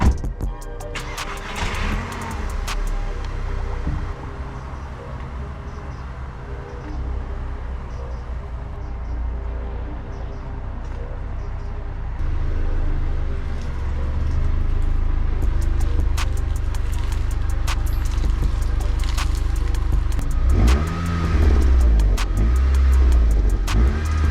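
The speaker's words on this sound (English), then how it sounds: "it's the stock exhaust, but maybe I will do something about it in the future" Stock exhaust on a VW Golf 6 GTI revving, a steady loud engine drone that builds in level over the second half with a few sharper throttle blips near the end.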